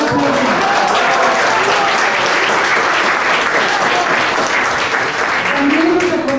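An audience at a commemorative Lawyer's Day breakfast claps loudly and continuously, close and sustained applause filling the room.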